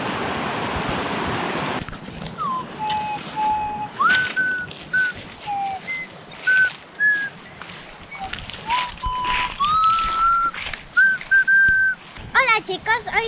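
A small flute made to imitate owl calls, played outdoors in a forest: a series of clear whistled tones, some sliding upward, repeated over several seconds after a brief burst of broadband noise at the start.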